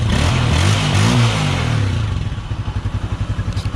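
A Honda TMX 125 Alpha motorcycle converted to 150cc runs close and loud. A rough, revving roar settles into a steady, rhythmic idle thump.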